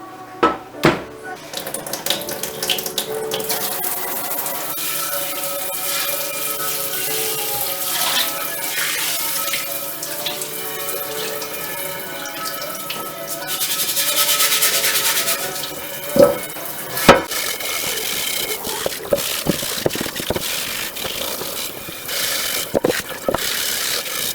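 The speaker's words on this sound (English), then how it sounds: "We'll take this right over to the sink with some hot water." Hot tap water gushes steadily into a sink for a long stretch, then stops, followed by a few sharp clinks and knocks from a cast iron skillet.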